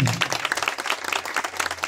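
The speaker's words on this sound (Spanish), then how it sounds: "por favor, regálenme un aplauso más fuerte" Applause from a crowd at a funeral farewell for a Salvadoran comedian, brisk irregular clapping with distinct sharp hand claps, close and steady throughout.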